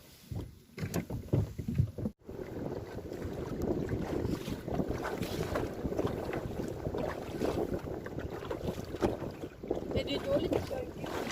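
Strong wind buffets the microphone outdoors at a night shrimp-fishing spot, a continuous loud rushing roar with gusts and brief dips, no speech over it.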